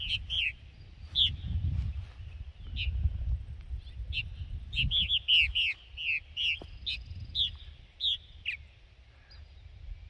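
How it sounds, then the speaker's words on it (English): A purple martin calls repeatedly outdoors, giving clear chirping and warbling notes in irregular bursts over a low rumbling background. "The purple martin showed up today."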